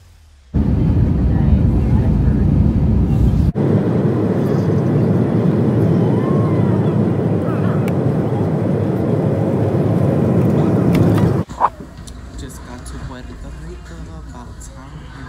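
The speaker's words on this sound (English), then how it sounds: "I'm on my plane." An airliner cabin on a flight to Puerto Rico fills with a loud, steady broadband engine roar that starts abruptly, holds for about eleven seconds and then drops to a quieter hum.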